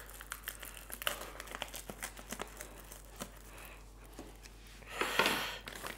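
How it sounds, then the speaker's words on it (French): Scissors snip open a paper bag of Robin Red flour with small crinkling rustles, then a louder burst of paper crackling and tearing toward the end, close up and alone. "un petit ciseau pour ouvrir le paquet"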